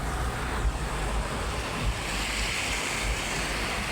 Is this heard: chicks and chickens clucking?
no